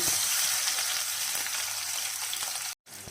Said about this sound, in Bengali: তেলগুলো কিন্তু গরম হয়ে গিয়েছে এক কাপ পেঁয়াজ দিয়ে দিচ্ছি